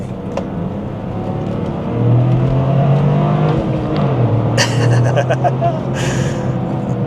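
An all-wheel-drive Toyota GR Corolla's engine rises and falls as the car accelerates through corners, a close in-cabin drone with a few sharp clicks, under a driver talking.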